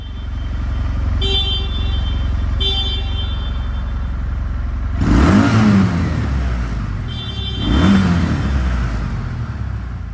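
A 2019 Kawasaki W800 motorcycle idles with a steady, close engine rumble, then two sharp throttle blips rise and fall a couple of seconds apart.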